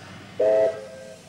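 A single short steam train whistle blows clearly, a brief steady tone that fades into a quieter lingering note over faint background rumble.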